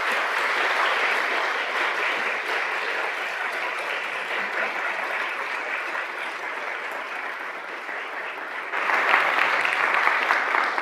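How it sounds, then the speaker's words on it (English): An audience at a public lecture event gives a big round of applause for the guest speaker, a dense, sustained clapping from a large crowd that swells slightly louder toward the end. "So, a big round of applause"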